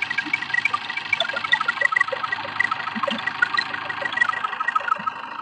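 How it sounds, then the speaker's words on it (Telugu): A 2018 Maruti Suzuki Vitara Brezza ZDI+ diesel with automatic transmission idles steadily up close with the AC switched off, giving a smooth, even hum with light rhythmic ticking. "చూసారు కదండి ఇప్పుడు ఇంజన్ సౌండ్ కూడా ఎంత నీట్గా ఉందో."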